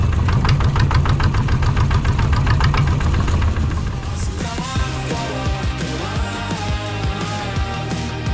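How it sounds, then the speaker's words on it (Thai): A longtail boat engine chugs loudly and close by on a trip to the Surin Islands, with a fast, even knocking rhythm. Partway through, the tone shifts as the revs change, and no one speaks. "นั่งเรือหางยาวแบบนี้ไป"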